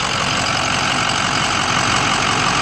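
A 2006 Ford F350 Powerstroke diesel one-ton pickup with EGR delete and head studs idles steadily up close, a continuous low rumble with a dense, even clatter and no voices.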